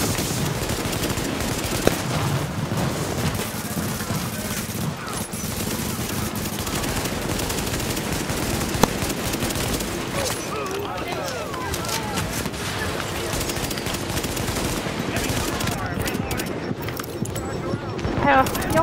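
Continuous bursts of automatic gunfire and shots in the video game The Division, loud and dense throughout, with people talking over the action.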